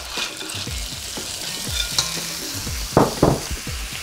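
Shrimp, scallops and other seafood stir-frying in oil in a wok, an even close sizzle broken by repeated knocks and scrapes of stirring, with a couple of louder tossing clatters near the end.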